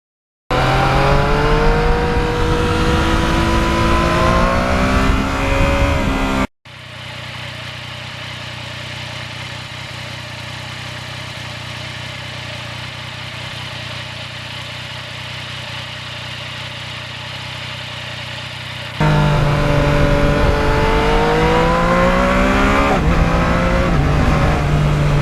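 A 2020 Yamaha MT-09 motorcycle with a quick shifter is ridden hard, its engine loud and close, rising in pitch through quick gear changes, then dropping to a muted steady rush of wind and road before accelerating again.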